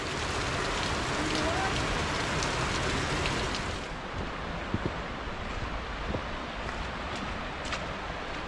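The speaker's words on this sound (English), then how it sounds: "Rainfall waterfall." A rainfall-style waterfall at Akame 48 Waterfalls in Japan gives a dense, steady hiss of falling water. It is close and loud at first and eases slightly partway through, with a few faint knocks.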